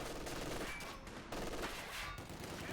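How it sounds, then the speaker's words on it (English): In Company of Heroes 2, a German MG team lays down a continuous burst of machine gun fire, a dense rattling stream of rapid shots at moderate volume lasting the full few seconds with no voices. "MG manages to suppress this rifle"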